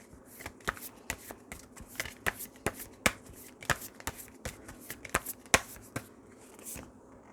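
Tarot cards are shuffled by hand up close, giving a run of sharp papery riffles and snaps in an uneven rhythm, each burst quick and crisp against a quiet room.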